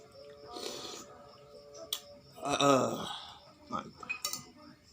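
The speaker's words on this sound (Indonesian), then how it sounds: "Seruput kuahnya ya." Wet slurping of spicy soto soup broth up close, with clinks of a spoon and bowl, mouth noises and a breathy exhale mixed in, fairly quiet overall.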